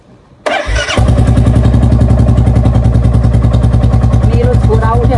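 A motorcycle engine starts in eco gear: a short starter crank, then the engine catches and settles into a loud, close, steady idle with rapid even firing pulses.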